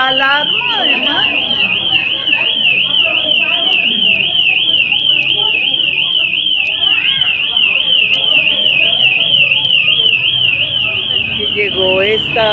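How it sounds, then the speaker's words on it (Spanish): A loud electronic alarm warbles continuously through the whole stretch, its rising-and-falling tone steady and close, while several people keep talking over it. "Se disparó la alarma"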